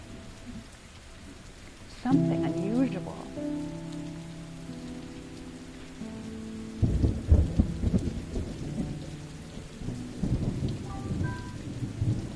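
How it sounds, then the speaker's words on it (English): Thunderstorm with rain in the video game Hue, a steady rain hiss with low rumbling thunder swelling in the background while people talk over it and a melodic tone plays. "Even the sound design is great, like that thunderstorm in the background"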